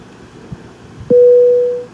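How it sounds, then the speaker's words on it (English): Avionics in the FSX flight simulator switch on with a steady electronic tone that starts abruptly, holds loud and unbroken, then fades slightly, preceded by a couple of faint low thumps. "There's the sound of our avionics."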